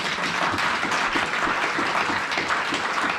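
A church congregation applauding continuously during a sermon, a dense, even wash of clapping with no pauses.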